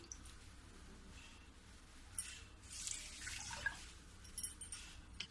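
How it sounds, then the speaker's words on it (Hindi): Water is poured from a small bowl into another bowl in a home kitchen where a wheat-flour sweet is being made, a faint, soft splashing trickle that swells briefly in the middle. "अब यही कटोरी से एक कटोरी में पानी डालूंगी।"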